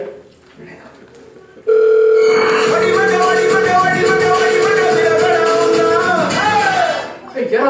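A phone rings through a speakerphone during a stage drama as one long, steady electronic tone lasting several seconds, with faint voices before and after.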